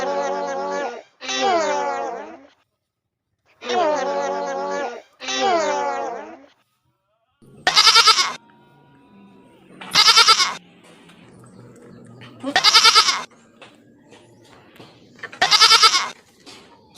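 Goats are being fed, and their bleats come in several separate loud calls spaced a couple of seconds apart. Earlier, a voice speaks in short bursts.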